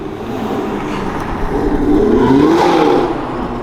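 A car engine revs up loud and close, rising into a strong whirring surge near the middle before easing off slightly.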